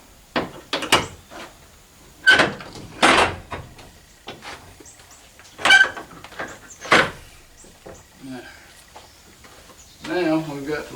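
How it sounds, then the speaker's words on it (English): Doors of a 1985 Chevy K10 truck being opened during a restoration in a cramped shop, with several sharp clunks and latch clicks spread across the stretch, someone talking between them. "I got to open these doors to get some room in here."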